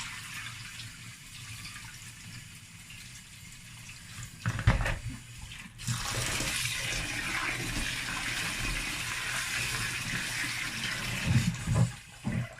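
Running water rinses peeled beans for akara, a steady close rush of water with a louder splash around the middle and a few clatters near the end, no talk.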